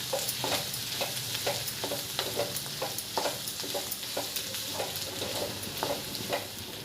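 Ridge gourd fry with grated coconut sizzling gently in a pan while a spoon scrapes and stirs it in a steady rhythm, close up and fairly quiet.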